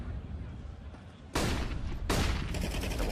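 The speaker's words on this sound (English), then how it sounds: "just a couple of bullets in this AK will take him down" AK rifle fire in Counter-Strike on the map de_inferno, with two loud, dense bursts breaking out after a quieter stretch of game noise.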